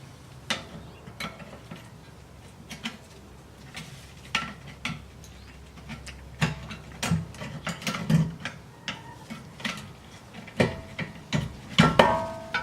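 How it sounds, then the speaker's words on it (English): Metal clicks and scraping as a screwdriver pries a disc brake caliper loose during a brake pad replacement, with sharp irregular knocks that grow busier and louder toward the end. "grab a bigger screwdriver you have and just kind of try and pry it out of there"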